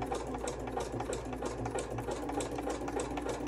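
A sewing machine stitches fabric for a journal cover, a quiet, rapid, steady run of needle clatter without pause.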